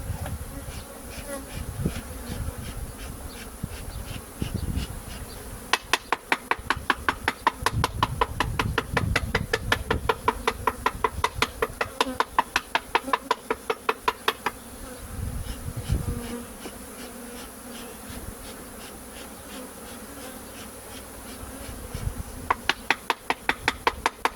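Honeybees buzz thickly while being shaken into an Apidea mating nucleus, a dense close insect hum joined by runs of rapid rhythmic tapping that recur throughout, with no talk.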